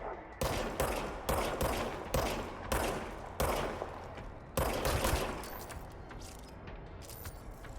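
A player's gun in the video game Control fires in regular, evenly spaced bursts, each shot a loud sharp crack with a short decaying tail, slowing and fading toward the end.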